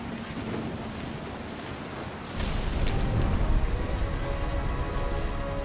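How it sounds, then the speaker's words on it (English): Thunderstorm in the video game What Remains of Edith Finch, a steady hiss of rain that swells into a louder, deeper rumble partway through, continuous and without speech. "The thunder sounded much too close and full of angry power"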